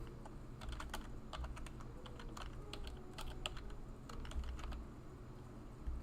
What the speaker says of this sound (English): So we'll type it in.